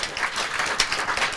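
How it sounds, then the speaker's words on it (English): A live blues audience gives a big round of applause for guitarist Vance Kelly, a brief burst of dense crowd clapping. "How about a big round of applause for Vance Kelly"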